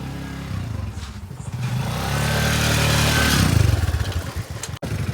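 A motorcycle engine runs close by, loud and steady, rising to a strong revving peak before easing off with a brief cut near the end.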